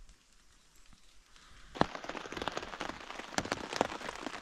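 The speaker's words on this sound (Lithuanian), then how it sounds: "Vėl šlapia, vėl lietus." Rain patters steadily on a tent during a night of camping beside a lake, starting after a quiet opening and building to a dense, close drumming with a few sharper drops.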